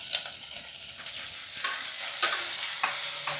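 Chopped tomatoes frying in oil with onions in a pan, a soft, crackling sizzle broken by a few scraping stirs of a spoon, close and fairly quiet.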